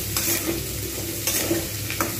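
Potato and cauliflower pieces fry in a little oil with a continuous sizzle, broken by a few scraping stirs of a spatula at irregular intervals about a second apart, close up and without voices.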